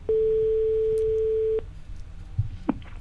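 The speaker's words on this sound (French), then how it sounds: "Donc, pourrions-nous appeler Christelle Badet?" A steady ringback tone from an outgoing telephone call, one long even beep lasting about a second and a half, then quiet line noise with a few faint clicks.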